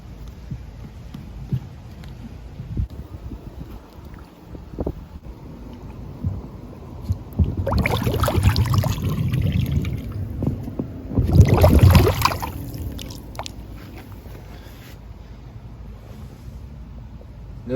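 An Intex above-ground pool pump starts up and runs, a low throbbing hum with watery churning that swells into two louder surges mid-way before settling back to a steady drone.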